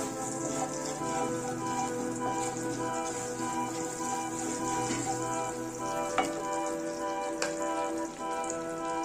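Panch phoron with whole cumin and black cumin sizzles steadily in hot mustard oil in a kadai, a soft, even crackle over a faint musical background, with a few sharper pops near the end.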